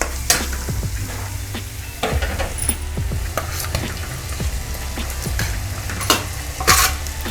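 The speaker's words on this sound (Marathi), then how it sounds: "आता आपण सगळं व्यवस्थित मस्त मिक्स करून घ्यायचे।" Maggi rice with masala being stirred in a pan, with repeated scraping strokes of a spoon against the metal over a continuous low sizzle, the clatter irregular and fairly close.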